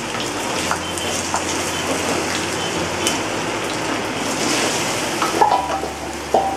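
Potatoes frying in hot oil in a pan give a steady, fairly loud crackling sizzle with a few sharper pops near the end, with no talk over it.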